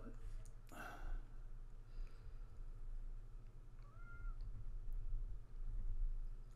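A stray cat meows once clearly and close by, followed by a softer second mew, over a low steady hum with quiet breathy background noise.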